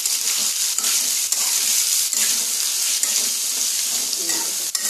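Chicken fries in a pan with a loud, continuous sizzle up close, broken by sharp scraping clicks of stirring every second or so.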